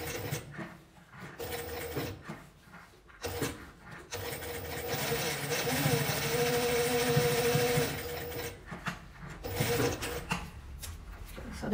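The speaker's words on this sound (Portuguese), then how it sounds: "vou passar uma costura bem na beiradinha" A sewing machine stitches along a fabric edge in short mechanical bursts, then runs in one continuous whirring stretch before stopping and starting again, close and clear.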